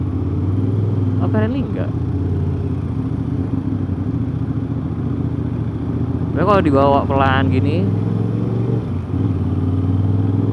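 Aprilia RS660 motorcycle fitted with a new aftermarket exhaust idles and rides slowly with a steady low rumble throughout, under someone talking near the start and middle.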